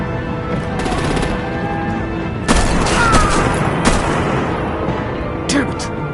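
Gunfire and artillery in a Batman video game crack out in bursts of sharp shots and heavier booms over a constant rumbling battle background, with clustered hits at several points.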